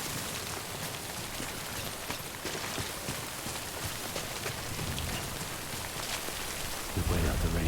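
Steady rain pours down in the video game Death Stranding, a dense broadband hiss with a few scattered heavier patters, continuous throughout and growing slightly heavier and louder near the end.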